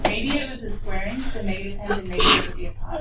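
A sneeze bursts out sharply and briefly in a classroom, heard under a teacher's ongoing talk about a math problem.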